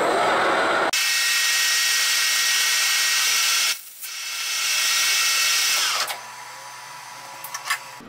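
A stiff abrasive pad pressed against a Mustang engine pulley spinning on a lathe gives a loud hissing, scraping whir that stops, resumes after a brief gap, then fades into quieter handling clicks.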